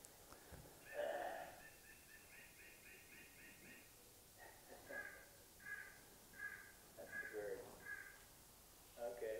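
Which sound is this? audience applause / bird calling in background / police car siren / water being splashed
bird calling in background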